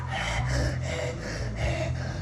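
A voice imitates a dog panting after a run, with rhythmic heavy breaths and huffs repeating several times up close.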